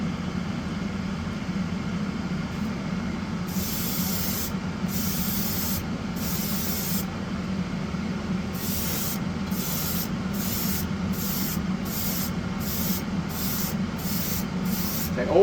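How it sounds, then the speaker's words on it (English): An airbrush spraying blue paint onto a model, in short hissing bursts: three longer sprays, then a run of quick, evenly spaced passes, over a steady low compressor hum. "So always start spraying before the model and off when you pass the model."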